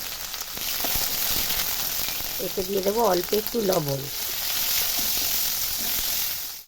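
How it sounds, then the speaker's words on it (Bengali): Bitter gourd pieces frying in hot oil in a kadai give a continuous, close hiss and crackle, with a voice talking briefly over it midway. "এবার এই তেলের মধ্যে আমি উচ্ছেগুলোকে আগে লাল লাল করে ভেজে নেব।"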